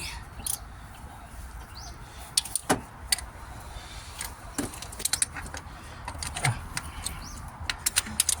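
A ratchet works at a loose nut deep in an Opel Corsa engine bay, giving scattered, faint metallic clicks and clinks over a quiet background.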